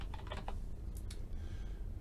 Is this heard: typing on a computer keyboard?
yes